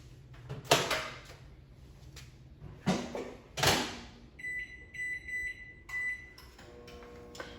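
Several sharp clunks and clicks of a microwave door handled close by, followed by a series of electronic keypad beeps.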